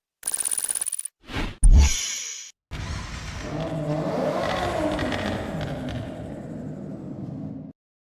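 A 1998 Toyota Supra RZ twin-turbo engine revs loudly in the Forza Horizon racing game, with a short burst and a sharp blip, then a long sustained drone that climbs and holds before cutting off abruptly.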